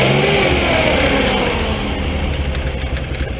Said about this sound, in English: the engine runs nice and quiet